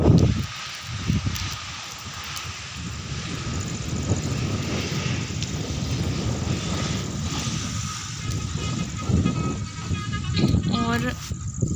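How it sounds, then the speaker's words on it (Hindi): Strong wind gusts across a village rooftop in rainy weather, a loud, steady roaring rush that buffets close to the microphone and swells slightly toward the end. "आप लोगों को हवा की आवाज़ आ रही होगी, बहुत ही तेज हवा चल रही है।"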